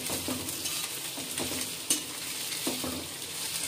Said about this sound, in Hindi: और इस सब्जी को हम तेज गैस पे ही फ्राई करेंगे।